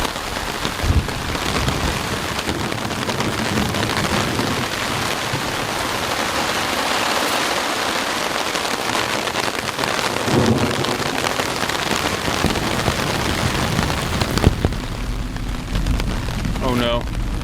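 Heavy rain pours steadily on a remote Great Lakes island during a thunderstorm, with rumbling thunder, rising wind and a sharp crack near the end.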